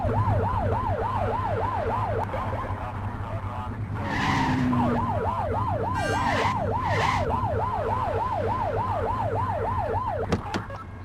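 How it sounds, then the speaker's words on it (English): A police car siren in the video game The Precinct wails in a steady rising-and-falling cycle. It runs loud for about two seconds, breaks off briefly, then resumes continuously over a low engine hum. "Get on their tail and flip the siren."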